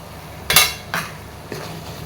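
A spoon stirring drumstick leaf curry in a metal pot, three distinct scraping clanks spaced about half a second apart, close and fairly loud against a quiet kitchen background.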